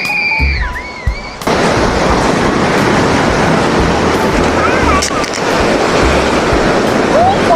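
Loud, steady surf from the open sea at Xiaoliuqiu, Taiwan, a continuous roar of breaking waves filling the scene after a brief opening of other sound.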